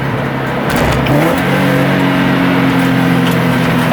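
Tuned Subaru BRZ / Scion FRS sports car engine accelerating, recorded from inside the cabin, with a loud, sustained rising engine drone that climbs steadily in pitch under hard throttle.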